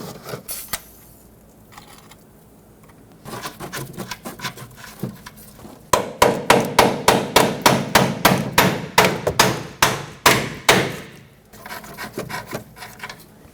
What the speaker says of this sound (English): You can typically hammer it quite a bit harder if that mounting nut is on.